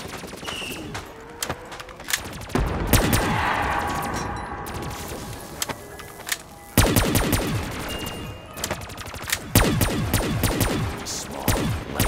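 Call of Duty Zombies gunfire from a small, lightweight weapon: repeated bursts of rapid shots, loud and close, broken by short pauses, with game noise underneath.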